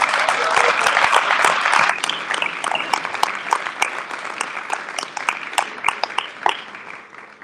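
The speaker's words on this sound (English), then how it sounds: "So I'd like everybody to applaud themselves for being involved in that" A large conference audience applauds at an awards session, dense sustained clapping filling the whole stretch, strongest early and thinning slightly toward the end, with faint voices mixed in.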